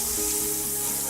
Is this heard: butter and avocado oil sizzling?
yes